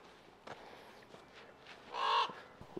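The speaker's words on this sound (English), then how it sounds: "we got some blackbirds up on the water tower there" A single harsh blackbird squawk rings out fairly close from a water tower amid faint outdoor noise and a few soft thuds.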